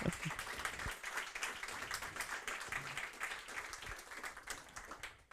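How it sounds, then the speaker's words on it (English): Audience applause at a hackathon event, a steady wash of many hands clapping at low level, continuous for several seconds with no speech over it. "Big applause."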